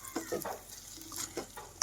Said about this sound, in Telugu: ఉల్లిపాయలు ఏగినాయని చూద్దాం చక్కగా ఎర్రగా అయితే ఎగిపోయినాయి ఉల్లిపాయలు మనకి